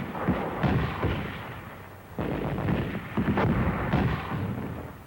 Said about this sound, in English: They covered their advance with mortar fire.